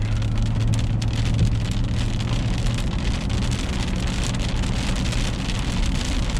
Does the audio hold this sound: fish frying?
no